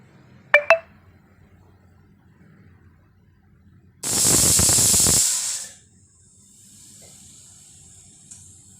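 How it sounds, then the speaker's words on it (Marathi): A pressure cooker cooking dal palak releases a loud burst of hissing steam with a shrill whistling tone, lasting over a second, then a softer hiss trailing off; a brief beep comes first. "त्याला आपल्याला कुकरला चार शिट्ट्या घ्यायच्या आहेत"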